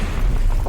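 An explosion from a Breaking Bad episode: a loud, continuous low rumbling boom that fills the whole moment without letup, with no voices.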